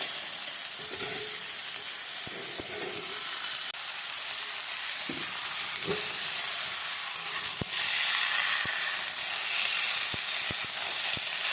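Mixed vegetables frying in a pan for a shrimp dish, a continuous close hiss and sizzle with occasional light clicks and taps of stirring.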